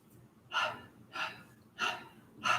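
Four slow, evenly spaced breathy exhales, each a soft whispered ha during a gentle breathing exercise, close and fairly quiet with short pauses of near silence between them.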